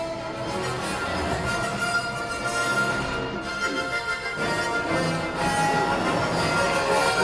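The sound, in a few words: train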